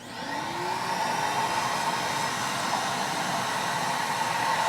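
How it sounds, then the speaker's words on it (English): A shop vac with a suction attachment runs steadily and loudly throughout, a continuous broadband whooshing roar with a faint whine, spinning up slightly at the start. "This is just an attachment for any shop vac."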